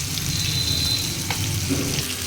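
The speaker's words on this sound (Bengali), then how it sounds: "হাফ চা চামচ মতো একটু হলুদ গুঁড়ো এর ভেতর দিয়ে দেবো, তেলের ভেতর।" Turmeric powder and salt dropped into hot oil, giving a loud, dense, continuous sizzle close by, with a brief utensil scrape partway through.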